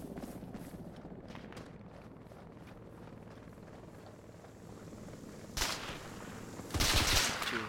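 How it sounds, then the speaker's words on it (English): Suppressing gunfire in the military shooter ArmA 3, with a rattle of distant shots and then two loud, close bursts near the end over a constant background rumble. "Right, we were suppressing fire."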